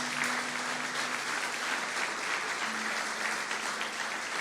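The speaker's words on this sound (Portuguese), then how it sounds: "Aplauda ao Senhor e glorifique o seu nome." A church congregation applauds steadily and evenly for several seconds, a dense, sustained clapping with no talk over it.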